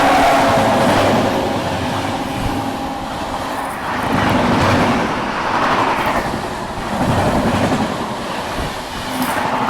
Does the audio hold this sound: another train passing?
yes